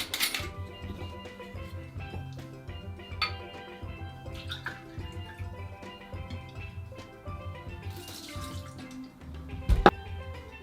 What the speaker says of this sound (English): start pouring the ingredients into it. So the first ingredient that's going into it is 60ml or 2 ounces of gold rum